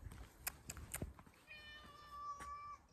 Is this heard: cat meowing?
yes